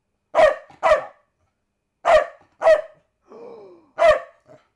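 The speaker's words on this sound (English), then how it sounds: "You've got corgis barking to the left of me, to the right of me." Corgis bark indoors in loud, sharp barks: two quick ones, then a pair, a brief whining growl, and one more bark, with silent gaps between the bursts.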